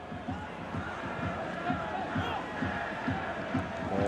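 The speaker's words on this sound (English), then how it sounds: "you can hear this buzz around this stadium" A dense crowd buzz fills a football stadium during Bradford City against Arsenal, a continuous rumbling murmur of thousands of fans with faint surges and shouts rising from it.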